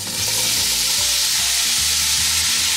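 Andouille sausage browning in a pan on medium heat for a Louisiana seafood gumbo, a loud, steady, close sizzle with faint scraping from stirring, no voices.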